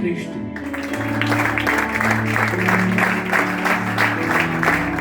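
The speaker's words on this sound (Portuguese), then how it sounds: "Aplaude para Cristo." Applause from a church congregation during a sermon, loud and sustained rhythmic clapping layered with sustained instrumental tones and voices underneath.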